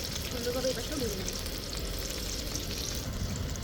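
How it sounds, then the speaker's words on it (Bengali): Eggplant slices fry in oil in a pan, turned to cook the other side, with a steady, soft sizzle throughout under faint background noise. "সুন্দরভাবে এই পাশটাও ভেজে নেব"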